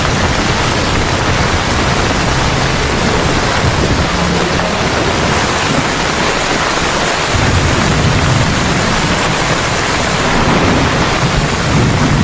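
Heavy rain pours down in Havana, Cuba, a loud, dense, continuous hiss with a deep rumbling undertone that could be thunder, steady throughout with no voices.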